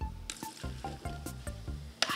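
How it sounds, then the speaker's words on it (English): Vinegar is poured onto Arm & Hammer baking soda, setting off a foaming reaction: a series of wet squishing, bubbling pops at a steady close rhythm, ending in a sharper splash. "Then, you're gonna pour in the vinegar. This is where the reaction is gonna happen."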